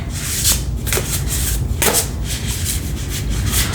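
A very thick deck of cards is shuffled with repeated papery riffles and rubbing strokes, close and fairly loud, with no talking.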